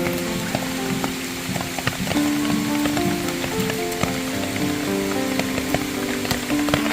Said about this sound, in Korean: 지금 비가 내리고 있어서